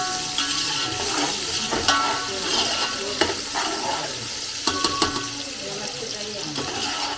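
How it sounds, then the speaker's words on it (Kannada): Onions deep frying in oil for homemade prawn biryani, a close bubbling sizzle with occasional clinks and stirring knocks, and a voice talking briefly over it. "ಇಲ್ಲಿ ನೀರುಳ್ಳಿ ಡೀಪ್ ಫ್ರೈ ಆಗ್ತಾ ಉಂಟು"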